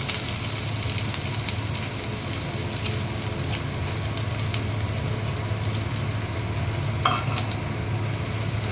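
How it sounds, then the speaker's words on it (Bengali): Chopped onion, with a little chopped chilli, frying in hot oil for jackfruit seed bhaja, a steady dense sizzle holding close and even throughout, with a brief louder crackle near the end. "তেল গরম হয়ে গেছে, এই পেঁয়াজ কুচিটা দিয়ে দিলাম।"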